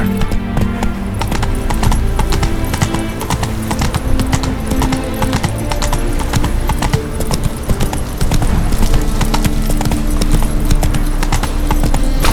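Roach, the horse in The Witcher 3, gallops with loud, fast, continuous hoofbeats and an occasional snort, close and steady over ambient game sound.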